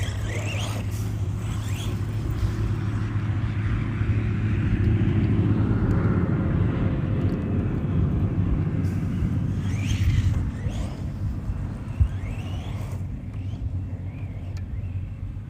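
A Losi DB Pro 2S RC buggy runs as the throttle is released. A loud, steady motor whir and rumble holds, then eases off and drops lower with a brief knock near the end.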